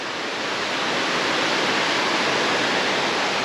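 Smoky Mountains creek on a hiking trail gives a steady, full rush of splashing water, constant and fairly close, with no voices over it.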